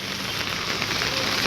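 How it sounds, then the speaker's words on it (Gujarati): Light monsoon rain falls on surfaces in a Gujarati town, a steady close crackling patter of drops with a constant hiss and no break. "હવે વરસાદનો માહોલ ચાલુ થઈ ગયો છે"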